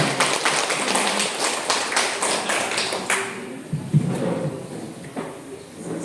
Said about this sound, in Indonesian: Boleh kita berikan tepuk tangan Bapak Ibu sekalian.